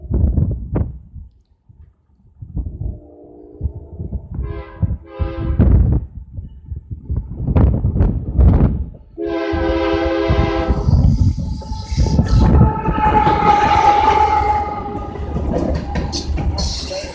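BNSF freight train hauling oil cars at Bound Brook sounds several loud horn blasts as it approaches and passes, with rumbling wheels and rail noise building underneath.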